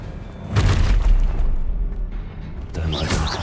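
Casting the Expelliarmus spell in the video game Hogwarts Legacy produces a deep, booming magical burst with a whooshing rush, followed a few seconds later by a second, lighter crackling blast.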